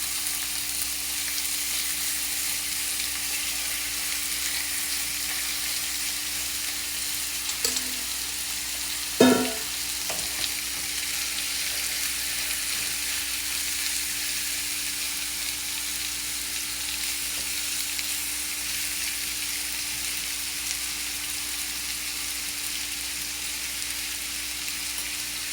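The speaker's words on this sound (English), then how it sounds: "in that skillet, and we're gonna pan sear those until they have complexion as well." Seasoned chicken thighs pan searing in a skillet, a long steady hiss of sizzling fat with a single brief clatter partway through, no voices.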